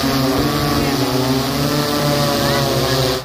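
A loud, steady high-pitched motor drone with buzzing rotor hum holds constant throughout, an agricultural spraying drone hovering close by over a farm field.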